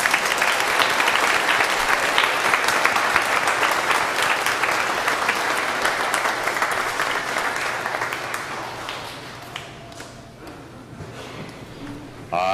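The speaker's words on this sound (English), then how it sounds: "Let's give our mothers a round of applause." Audience applause fills a church during a Sunday Easter Vigil Mass with First Communion, a dense, steady ovation held for several seconds before thinning out and fading toward the end.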